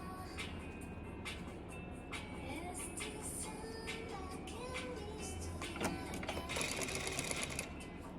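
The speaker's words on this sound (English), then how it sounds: "you're gonna start sewing about 1/4 inch" Sewing machine stitching stretchy seat-bench cushion fabric, a steady mechanical whir held at an even level, with brief clicks and a short louder burst toward the end.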